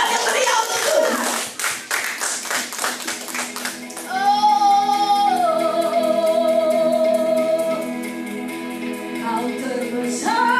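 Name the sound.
church congregation clapping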